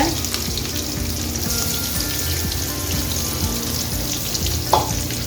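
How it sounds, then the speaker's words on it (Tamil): Sliced big onions sauté in oil for a Chettinad chicken gravy, a loud steady sizzle under a rhythmic low thumping. One sharp clink rings out near the end, and no one speaks. "போட்டுட்டு நல்லா எண்ணெயில் வதக்கி விட்டுருவோம்"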